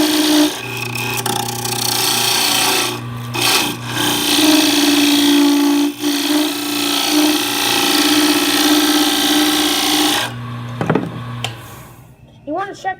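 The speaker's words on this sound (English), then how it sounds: "we're just going to turn the lathe on and part the bowl" Wood lathe spinning a turned bowl while a tool parts it off, a loud steady whirring hum with scraping cut noise that stops near the end, leaving faint clatter.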